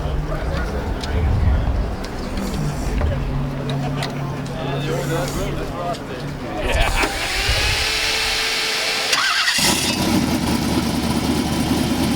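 A 1,000 hp turbocharged LS engine in a T-Bucket hot rod cranks and fires up, settling into a loud, rumbling idle with a sharp revving burst near the end, while people talk over it.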